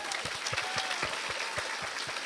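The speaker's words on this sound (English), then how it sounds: "let's give those girls another round of applause" Applause from the audience at a county fair queen contest, a moderate, steady patter of clapping with a few distinct nearby claps standing out.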